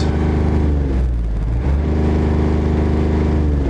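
The 0.8-litre diesel engine of a 2012 Smart Fortwo CDI with an EGR fault is held at a loud, steady rev, droning close by with a brief dip partway through before picking back up.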